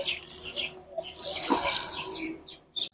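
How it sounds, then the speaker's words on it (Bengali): Water poured over potted flower plants, a continuous splashing, trickling rush that swells in the middle and ends with a few brief drips, close and moderately loud. "চলো আগে ফুল গাছটাতে জল দিয়ে নিই"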